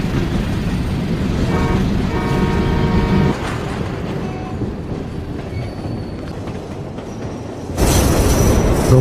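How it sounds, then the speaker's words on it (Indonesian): A train rolls steadily along its rails in an action film, loud and close, with wheels squealing and a rhythmic clatter, then a sudden louder rush near the end as the carriage noise swells. "Robert Michael mengawali film Equalizer 2 dengan berada dalam sebuah kereta"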